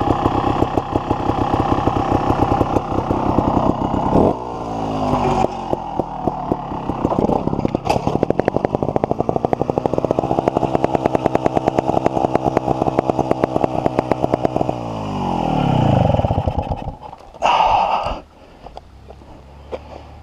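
A 2013 Sherco 3.0 ST trials motorcycle engine runs loud and close for about twenty seconds, revving up and down through steady harmonic drones, then dropping away toward the end with a brief burst near the close.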